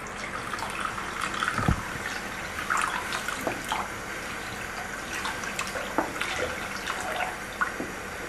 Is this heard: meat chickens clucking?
no